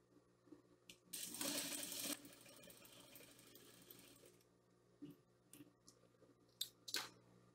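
A sewing machine runs a short burst of straight stitching across a cotton dish towel, loud and steady for about a second, then falls to quieter handling clicks and rustles with a few sharp taps.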